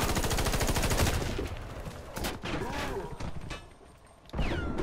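Gun reloading and gunfire in the video game Warface, rapid close automatic fire at first, then clicking reload mechanics and scattered shots, with a voice speaking briefly.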